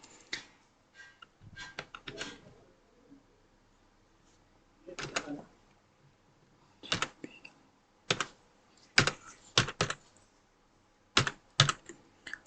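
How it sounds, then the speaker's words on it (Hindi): Keys on a computer keyboard tapped in short irregular bursts while a security code is entered, quiet and close with pauses between clusters of keystrokes. "यहाँ पे टाइप कर देना है"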